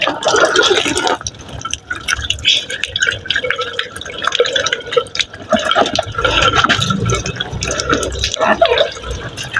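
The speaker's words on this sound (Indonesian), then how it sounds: "Lalu setelah itu dibasahin dengan air." Electric fan parts rinsed with water after scrubbing with a brush, a continuous splashing, trickling wash with dripping and pouring sounds, fairly loud and close throughout.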